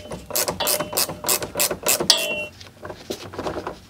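A ratchet being tightened on a Renault to pull on the cables: a series of quick, loud mechanical clicks in short bursts, close by, with a brief squeak partway through and softer clicks toward the end, no voices.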